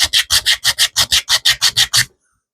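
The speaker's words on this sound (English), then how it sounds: "I am going to take and sand this in just the littlest bit" Eleven brisk, evenly spaced strokes of sandpaper across a cigar mold, loud and close with a dry scratchy rasp, ending abruptly in silence.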